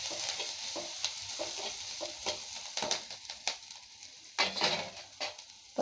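Long beans and curry leaves stir-fried in a pan, steady soft sizzling with repeated scraping and clinking strokes of a spatula at irregular intervals, close and fairly quiet with no talk.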